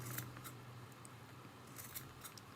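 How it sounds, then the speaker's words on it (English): Small scissors snip yarn to trim a yarn hat Christmas ornament, giving a handful of faint, crisp clicks spaced unevenly against quiet room noise. "I'm just trimming, doing a little haircut, like this."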